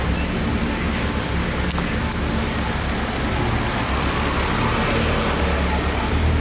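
A twin-turbo Camaro sits on a dyno just after a pull, its engine idling with a steady, loud rumble under broadband roar and a couple of faint clicks.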